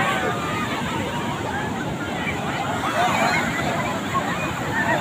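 Crowded beach at Puri with steady surf and wind, a continuous wash of waves mixed with a murmur of many voices throughout.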